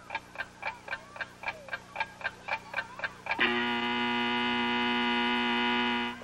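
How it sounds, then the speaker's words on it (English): An alarm clock ticks in a steady, even rhythm about a dozen times, then its bell rings in a loud, continuous jangle until the end, with a low mains hum underneath; set in a children's television scene. "They don't even wake up to the sound of the alarm clock."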